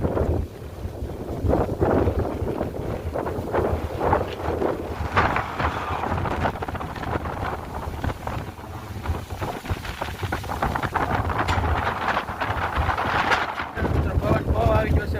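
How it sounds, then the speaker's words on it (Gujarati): A steady, powerful storm wind in Gujarat blasts across the microphone, rumbling and gusting throughout with no letup. "પવન અત્યારે ફૂલ ઉડ્યો હોય"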